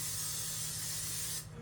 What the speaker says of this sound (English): we're going to spray this casserole dish